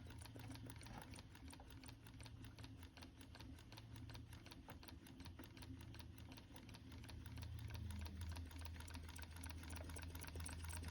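A 12-volt two-cylinder, four-piston solenoid engine with push-pull action on the crankshaft runs very slowly, giving a steady rapid mechanical clicking and buzzing throughout, close and fairly faint, with no talking.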